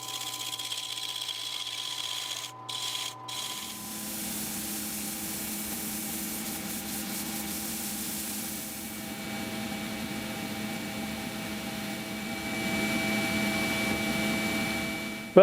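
Wood being turned into a dice cup on a lathe, a steady scraping whir under a constant motor tone that runs unbroken throughout, with a couple of brief knocks near the start.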